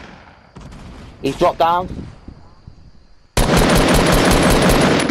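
Rapid automatic gunfire in a Fortnite match, hammering at a player-built structure: a dense, loud, continuous burst that erupts suddenly after a quieter stretch of speech and lasts to the end.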